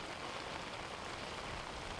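Monsoon rain falling steadily on an outdoor market area, a dense, even hiss of downpour with no pauses and no voices, moderately loud throughout.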